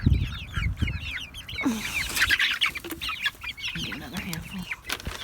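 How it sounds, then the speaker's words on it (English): Chicks cheep and cluck busily and close by while being fed worms by hand, a steady chatter of short high calls with someone speaking briefly over them. "Go chicks, here."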